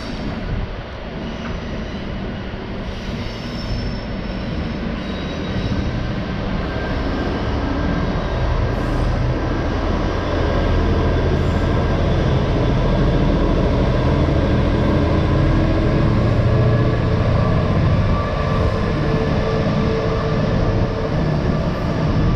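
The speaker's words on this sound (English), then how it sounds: "our class 66 and our class 70 double header is now on the move" A diesel-hauled train with a Class 66 and Class 70 locomotive double header rumbles steadily past, a deep continuous roar of heavy engines and rolling wheels that grows slightly louder and holds, with no voices.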